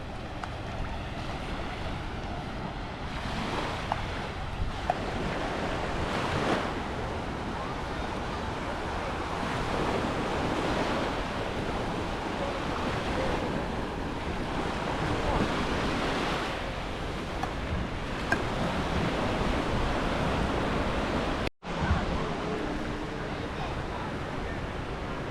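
Ocean surf and gusting wind fill the air along the shore at Hollywood Beach, a continuous broad wash of waves with wind buffeting the microphone throughout.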